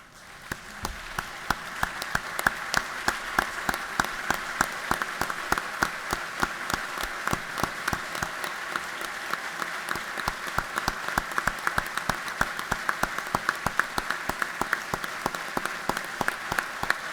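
Sustained applause from a large crowd: dense, even clapping that continues strongly throughout without any pause.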